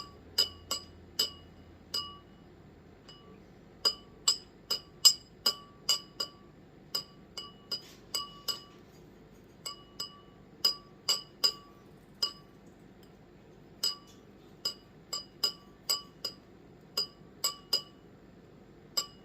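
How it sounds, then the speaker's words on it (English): Glass stirring rod clinking against a beaker of warm iodine clock reaction solution, sharp bright taps repeating irregularly, some in quick clusters, over a quiet low background hum with no voices. "I'm actually going to stir a little bit more"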